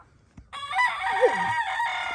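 A rooster crows loudly and close by in a cold, snowy backyard flock, one long wavering call that sets in suddenly after a brief quiet and carries to the end.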